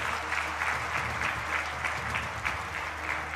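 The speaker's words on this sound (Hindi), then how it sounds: "तालियां बजाकर सेना के जवानों का अभिनंदन किया जाना चाहिए।" A live audience breaks into sustained applause for Indian army soldiers at a formal address, a dense steady patter of many clapping hands with no voices over it.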